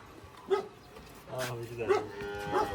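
A cow lets out a low moo partway through while people talk nearby over the animal sounds.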